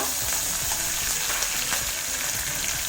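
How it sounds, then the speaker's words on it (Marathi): Green chillies roast in a hot pan for Maharashtrian mirchi thecha, giving a loud, dense, continuous sizzle and crackle close by with no talking. "आता आम्ही ह्या मिरच्या भाजणार आहोत। मिरच्या भाजून घ्या"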